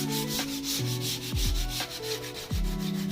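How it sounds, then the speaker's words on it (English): Steady scratchy scuff sanding, a sheet of 120-grit sandpaper rubbed back and forth over furniture before priming, with a few bumps and knocks mixed in, close and continuous. "proceeded to do the scuff sanding prior to the priming. So I used a 120 grit sandpaper"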